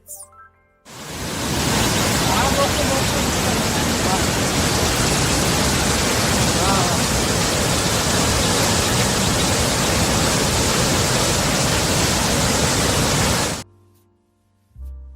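A waterfall sound effect plays as a dense, steady roar of rushing water. It starts abruptly, holds loud and unchanging for about thirteen seconds, then cuts off.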